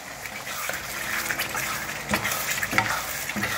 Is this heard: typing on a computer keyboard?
no